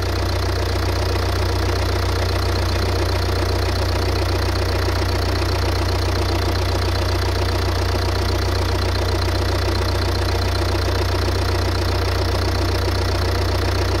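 A Ford Mondeo Mk4 1.8 TDCi diesel engine idling during injector leak-off testing, a steady, loud, continuous rumble with a constant low drone and unchanging level throughout.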